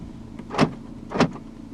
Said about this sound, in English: Central locking.